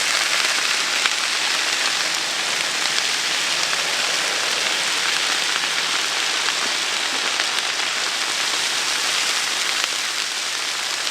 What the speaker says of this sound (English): Got a good sizzle going.